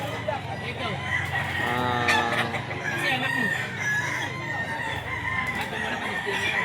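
A rooster crows at a pet market, one clear cock-a-doodle-doo rising over a busy crowd with other fowl clucking and people talking nearby.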